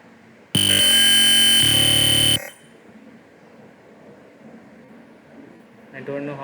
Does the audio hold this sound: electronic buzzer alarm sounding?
yes